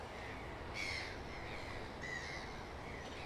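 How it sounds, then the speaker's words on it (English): Crows cawing outdoors, two separate harsh calls about a second apart over a steady background hiss of ambient noise, moderately close and clear. "Birds."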